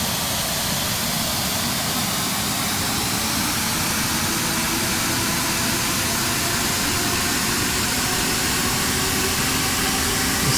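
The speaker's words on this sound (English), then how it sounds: "I'm gonna go ahead and give it full flaps for landing. And I will drop the landing gear." Aircraft in My Flight Sim World on final approach with full flaps and landing gear lowering, heard as a steady, loud broadband roar of engine and airflow that holds constant throughout with no distinct mechanical clunks standing out.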